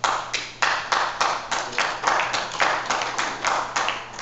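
Applause from the audience at a town hall meeting, a steady wash of many hands clapping with rhythmic bursts that swell and recede, fairly close and loud without speech over it.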